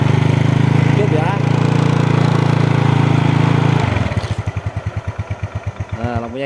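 Yamaha Mio Sporty scooter engine running steadily with a buzzing idle drone, then dropping into a slower rhythmic sputtering putter as revs fall, recorded close up.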